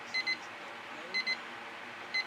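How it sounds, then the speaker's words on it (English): A timer alarm beeping in a quiet room, three repeating pairs of short, high electronic beeps spaced about a second apart, clear over faint background hiss. "that's my timer telling me"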